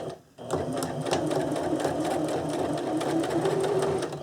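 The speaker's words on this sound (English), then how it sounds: "I'm just going to put a line of stitching on the edge of the tie over the elastic" Sewing machine stitching a line along the edge of a fabric cap tie over elastic, starting after a brief pause and running as a steady, loud mechanical whir with rapid needle ticking.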